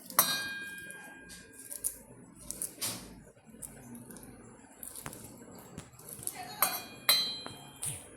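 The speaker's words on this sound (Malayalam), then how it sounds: "എടുത്ത് വെച്ച ഏത്തപ്പഴം ചെറുതായിട്ട് നുറുക്കി മിക്സിയുടെ ജാറിലോട്ട് ഇടുകയാണ്" Chopped plantain pieces dropping into a steel mixer grinder jar in a home kitchen, heard as scattered light clinks and taps spread across the clip, fairly quiet.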